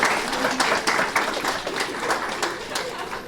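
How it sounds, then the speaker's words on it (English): An audience at a fan convention panel claps for a contestant, a steady round of applause at close range with a little talk mixed in. "Give her a round of applause for our contestant."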